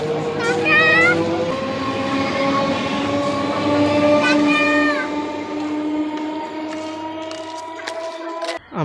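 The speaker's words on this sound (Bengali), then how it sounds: "ট্রেন থেকে নেমে পড়েছি" Passenger train at Shibaichandi station in West Bengal, with steady rumbling and squealing tonal whines across the platform, a brief horn-like tone early on, and voices mixed in; the sound fades near the end.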